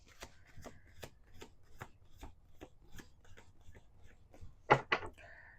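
Tarot cards being shuffled in a steady series of soft riffling flicks, close and quiet, ending with a couple of sharper taps as the deck is squared.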